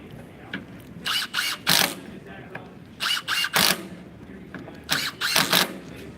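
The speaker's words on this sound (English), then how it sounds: "This will be the next screw she's going to drive." A Milwaukee power driver with a driver bit sinks a screw into steel in repeated short whirring bursts that rise and stop, loud and near, with ambient trade-show noise between bursts.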